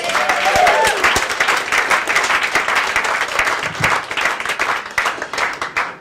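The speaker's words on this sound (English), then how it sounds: "Start clapping for Mr. Luke Stymest." A comedy club crowd at Gotham Comedy Club claps loudly and steadily, dense applause filling the whole stretch without letting up.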